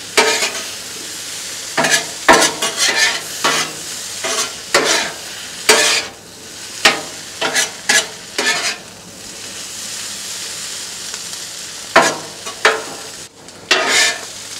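Chorizo and potatoes are stirred on a Blackstone griddle, scraping strokes coming in irregular bursts over a steady sizzle, close and fairly loud, with no talking.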